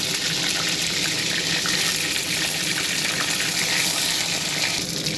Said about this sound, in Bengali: সেগুলোকে আমি এখন ভেজে নেবো।